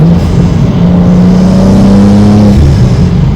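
A BMW G87 M2 fitted with an AWE intake holds a loud, close, steady engine drone around 3,000 RPM, its pitch rising slightly before easing back, with an intake rush layered over the rumble.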